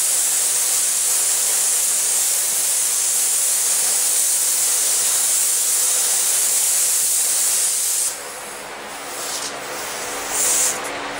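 Spray gun applying thick paint to a backhoe fender, a loud steady hiss running unbroken for about eight seconds before cutting off, followed by quieter short bursts and background noise.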